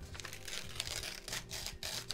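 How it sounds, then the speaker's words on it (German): Paper is torn and crinkled in quiet, close bursts of ripping and rustling that last about two seconds, with no talk. "Ich dachte, es ist einfacher, Papier aufzureißen."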